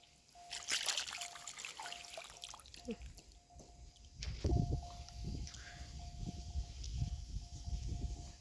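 Water trickling and splashing while a car is rinsed, a soft continuous dribble with a few louder gushes, moderately faint outdoors, with a thin steady tone running underneath.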